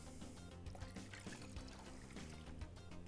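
Homemade orange and sour cherry juice pours through a wire strainer in a kitchen, a soft continuous liquid stream with light splashes, quiet and close.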